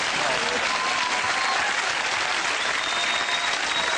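A studio audience at a comedy chat show claps in a steady, even wash of applause, moderately loud and continuous from start to finish, with no voices on top.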